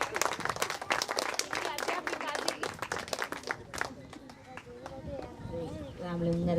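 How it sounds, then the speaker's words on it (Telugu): An audience at a school function claps in a brisk burst of applause that fades after a few seconds, while a voice speaks over a public address system. "Claps claps."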